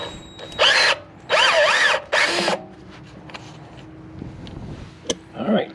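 Power tool fitted with a T30 bit backing out a bolt on a Porsche Macan rear brake: three loud, close whirring bursts with changing pitch, then quieter clicks, a sharp tap and a short final spin.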